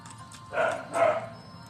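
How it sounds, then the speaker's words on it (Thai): A pet dog at a house barks twice in quick succession, fairly close and moderately loud, with a faint background hum and no one talking. "น้องหมาเห่าแล้วค่ะ"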